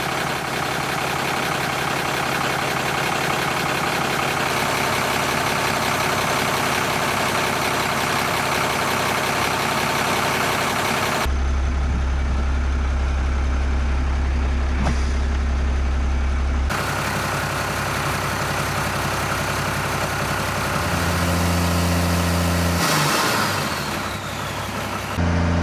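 A frost-damaged Cummins diesel engine runs and settles into a steady idle, its loud continuous rumble shifting in pitch and load partway through with no talk over it.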